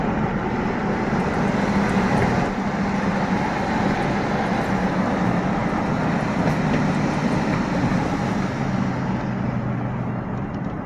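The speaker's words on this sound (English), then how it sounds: "it looks like we got an incoming BNSF freight train coming in." Short BNSF northbound freight train passing by N West Ave in a quiet zone, a steady broad rumble and roar throughout with no horn.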